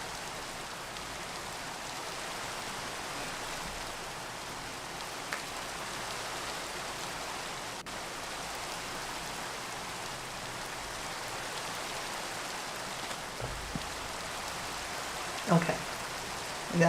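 Steady rain falls continuously outdoors during building work, a dense even hiss with a few faint knocks and taps toward the end.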